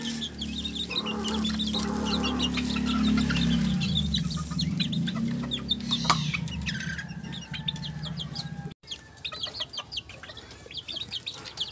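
Young Sebright bantam chickens, about six weeks old, cluck and chirp steadily in a small backyard coop. Busy overlapping peeps and clucks sit close, with a low hum underneath and no speech.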